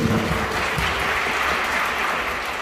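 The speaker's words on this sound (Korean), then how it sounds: "감사의 마음을 담아서 신랑 신부 내빈께 인사 큰 박수 부탁드리겠습니다." Wedding guests applaud together at a wedding convention hall reception, a dense, steady burst of clapping heard close and loud throughout, with no speech over it.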